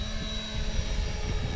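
An RC helicopter with a wobble in its rotor spools up, a steady close whine with a low throbbing flutter underneath, heard alone over a short stretch.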